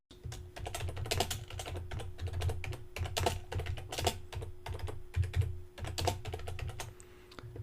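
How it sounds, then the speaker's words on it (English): Fingers type an address on a computer keyboard in a steady, quiet patter of close key clicks with a few slightly louder strokes, and no voices. "I'm going to type an address for the map to center on"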